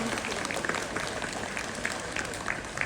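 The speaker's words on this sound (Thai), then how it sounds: "ปรบมือต้อนรับครอบครัวใหม่ดังๆเลยครับ" Wedding guests applauding to welcome the new family, a steady wash of clapping from a crowd, moderately distant and even throughout with faint voices underneath.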